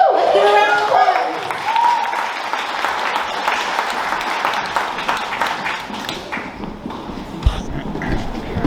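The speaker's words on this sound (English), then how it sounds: "Let's give a round of applause." Wedding reception guests applaud after a speech, a sustained wash of clapping with a whoop and cheers at the start, holding steady for several seconds with voices chattering under it.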